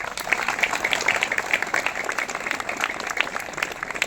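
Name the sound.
audience applause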